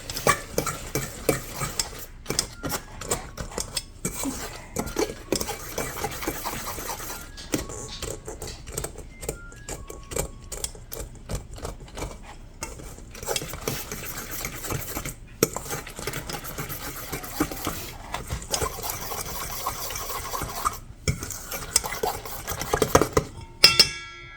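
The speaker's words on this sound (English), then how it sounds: "I'm just going to mix these together now" Christmas dessert ingredients are mixed by hand in a bowl: a close, busy run of scraping strokes and sharp utensil clinks, steady throughout with no talking.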